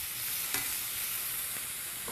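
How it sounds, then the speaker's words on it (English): Minced garlic and lemon zest sizzling in a pan with seared Brussels sprouts, a faint steady hiss of frying with a few light stirring scrapes, no talking. "So all I want to do is heat that little bit of minced garlic all the way through"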